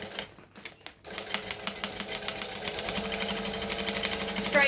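A sewing machine stitches pieces of fabric together, starting after a short pause and speeding into a steady, close, rapid clatter with no talk.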